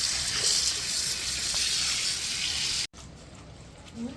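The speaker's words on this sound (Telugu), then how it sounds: "మునక్కూరను అంతా వాష్ చేసేస్తున్నాం" Running water gushes steadily while drumstick leaves are washed, a close, continuous splashing rush that cuts off abruptly near the end, followed by quiet handling noise.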